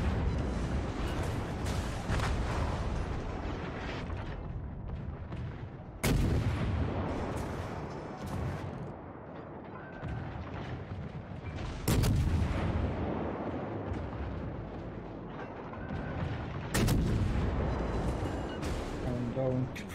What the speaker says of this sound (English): Try to fire at the cannon.